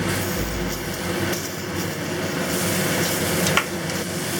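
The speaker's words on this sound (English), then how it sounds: "Add the tomatoes." Tomatoes tumble into a pot of Taiwanese beef noodle soup base with bean paste, then get stirred, giving a steady, loud sizzling and scraping texture throughout with a brief sharper knock near the end.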